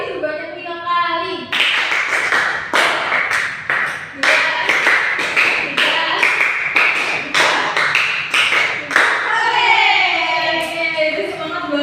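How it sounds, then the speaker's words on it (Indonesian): A classroom of students claps in unison in short, sharp bursts, a group rhythm of distinct synchronized claps with brief gaps, set between a teacher's spoken instructions before and after. "Tepuk 5 kali sebanyak 5 kali."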